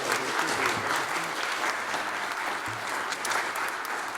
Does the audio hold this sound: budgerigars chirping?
no